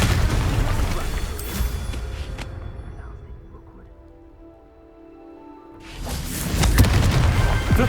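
A Confringo fire spell from Hogwarts Legacy bursts with a loud boom and crackling debris. The blast fades to near quiet, then a second heavy surge of noise swells back up.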